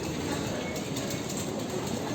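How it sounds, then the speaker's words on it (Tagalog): A Singapore MRT train at a station makes a steady, close rumble with faint rail clatter throughout, with no talking. "Ayan, nandito tayo sa MRT. Ganito MRT nila."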